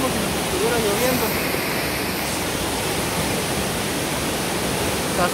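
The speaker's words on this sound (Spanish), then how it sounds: "Cascada Velo de Novia, El Chislón, Chiapas." Velo de Novia waterfall at El Chiflón in Chiapas, a loud continuous broadband roar of falling water close by. A faint voice shows briefly beneath the rushing spray.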